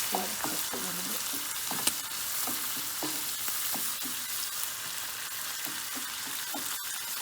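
Tomatoes cook in a pan with calamari and wine, a soft continuous sizzle with occasional light stirring knocks and a faint voice or two underneath.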